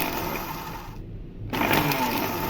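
A handheld electric mixer whirs as it whisks instant coffee at home, a steady buzzing drone that cuts out briefly for half a second and then starts again.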